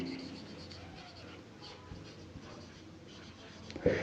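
Soft pen scratching on a surface during an English grammar lesson, faint and continuous, with a brief louder tap near the end.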